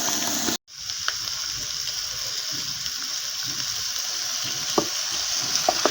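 Fried carrots and French beans with spices are poured into Irish potatoes in a hot pan, giving a steady close sizzle and hiss after a short break, with faint clinks of stirring.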